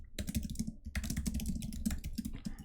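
Steady clicking of keys on a computer keyboard as code is typed, a close, continuous run of rapid keystrokes with no talking.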